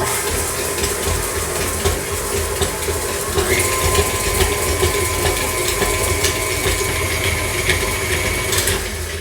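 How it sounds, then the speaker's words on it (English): Electric stand mixer beating stiff sugar cookie dough with butter and sugar: a steady, loud mechanical whir with rhythmic clattering and grinding that runs unbroken throughout, with no talking. "I'm doing it in an electric mixer and not using a hand mixer like I usually do"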